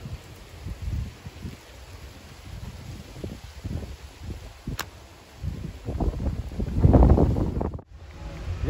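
Strong gusting wind buffets the microphone outdoors while an eagle-shaped kite is flown, with rumbling low gusts swelling and easing, building to a loud burst near the end before a brief drop.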